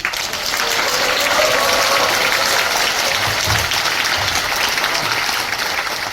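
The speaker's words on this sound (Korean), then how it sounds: "박수로 한마디" An audience at a forum on revitalizing an underground shopping arcade gives a sustained round of applause, dense and even clapping from a room full of people lasting the whole stretch.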